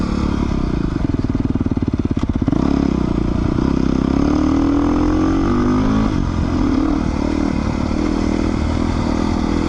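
A Beta 390 RR-S dual sport motorcycle is ridden on a dirt road, its engine droning steadily close by, with a burst of clattering and rattling early on before the revs rise and fall.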